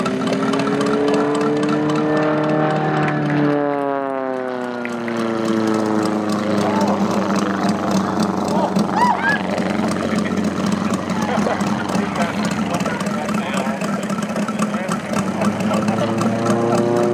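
Full-size propeller aircraft flying a display at a warbirds weekend airshow, a steady engine drone with a pitch sweep as it passes, heard under crowd noise and talk.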